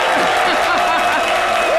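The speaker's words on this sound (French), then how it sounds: "c'est tout ce qu'on réserve comme applaudissement à nos champions" Studio audience applauding Olympic champions on an Ivorian midday TV talk show set, a steady dense wash of clapping lasting throughout, with a voice faintly audible over it.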